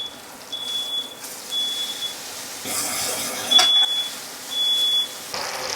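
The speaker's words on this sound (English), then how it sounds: "I made that fire alarm go off" A kitchen smoke alarm gives thin, high electronic beeps in short bursts and pulsed chirps while a ribeye steak sears loudly in a hot pan, the sizzle holding a steady hiss under the alarm.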